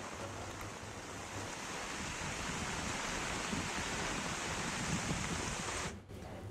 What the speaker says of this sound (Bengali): এদিকে উপকূলের বৈরী আবহাওয়ার কারণে উত্তাল রয়েছে সাগর